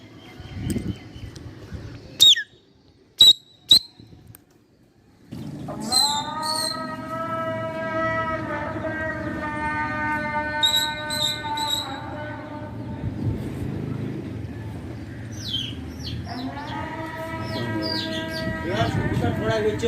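An Islamic call to prayer carries from a distance as a long, wavering sung voice that rises and falls over a low hum, with sharp clicks and bird chirps near the start and a person talking.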